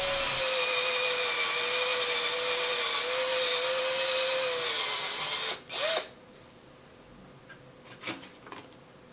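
A power driver sets a real screw into a spruce cone lure, a steady close motor whine lasting several seconds before it stops abruptly, followed by a few soft handling clicks and knocks.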